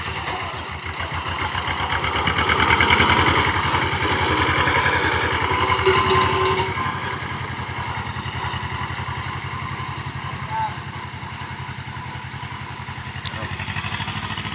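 A 25-horsepower Iseki farm tractor engine runs in third gear with a steady, fast, close chugging beat that swells slightly early on and then holds evenly, with no talk.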